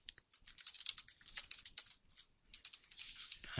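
Typing on a computer keyboard: quick, uneven bursts of light key clicks, close and fairly quiet, with short pauses between runs and no voices.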